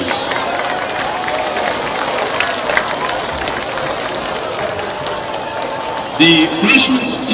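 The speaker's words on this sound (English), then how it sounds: "Please give them a big round of applause." A football stadium crowd applauds high school graduates, a broad, steady wash of clapping and crowd noise from a distance, with a brief louder burst near the end.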